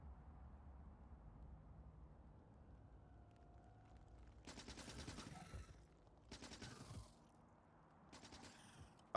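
Gunfire in Factorio comes as bursts of rapid automatic shots, three distinct volleys in the second half following a quieter stretch of low rumbling ambience, fairly faint and crackly.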